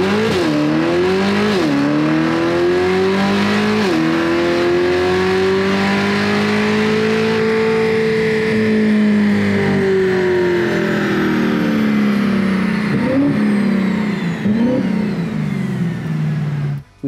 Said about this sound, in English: Today we're in the dyno cell with this Lingenfelter Supercharger kit on the C8 Corvette.